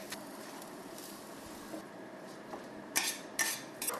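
Pasta and shrimp are tossed together in a pan, with quiet background noise broken by a few sharp metallic clanks and scrapes of cookware near the end.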